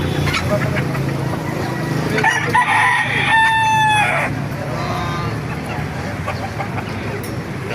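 Roosters crow over a dense, noisy background of many birds at a poultry market in Baliuag, with one clear crow standing out partway through, then fading back into the din.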